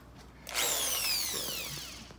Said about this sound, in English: you just gotta drill the holes, new holes for the top bolts